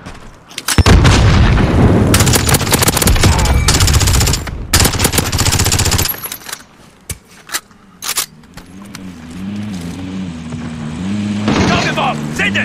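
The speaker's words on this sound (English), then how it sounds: "Whoa! Taking fire!" Gunfire in the shooter video game Warzone, loud close bursts of automatic fire with booms for several seconds, then scattered sharp shots and a low engine drone, with voices talking throughout.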